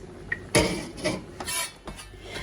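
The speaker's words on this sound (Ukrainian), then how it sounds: "нарізаю швиденько цибульку" A handful of knife strikes chopping onion on a cutting board, fairly close and irregular, with soft scraping between the chops and no talking.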